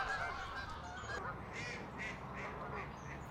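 A flock of geese honking and quacking on the water as they prepare to leave, with repeated calls rising in a steady series over a constant background, fairly close.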